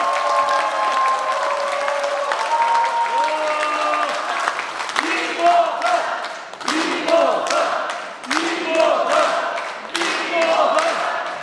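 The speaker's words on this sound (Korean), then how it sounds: "큰 박수로 맞이해 주시기 바랍니다" Audience applause and cheering as a lawmaker is welcomed at a political report meeting, loud steady clapping with shouts rising over it, and repeated tonal calls or music riding on top.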